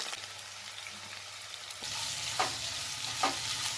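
Thick onions frying in a pan with whole spices for mushroom biryani, a soft sizzle that jumps louder partway through, with two scraping stirs near the end, quiet and close with no speech.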